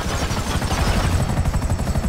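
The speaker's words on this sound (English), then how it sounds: "Destroy the helicopter gunship." A helicopter gunship in Grand Theft Auto V, during a raid on the Bureau, makes a steady, close, heavy rotor thrum that pulses evenly throughout, with no talking.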